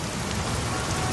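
Steady rain pours down in a dense, even hiss of drops striking a surface, continuous and fairly close throughout, with no voices.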